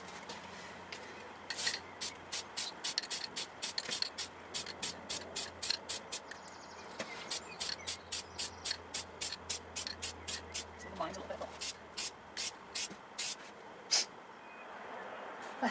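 Repeated short hissing bursts of Plasti Dip aerosol spray on a Renault Clio, about two dozen in a steady rhythm, close by over faint background noise.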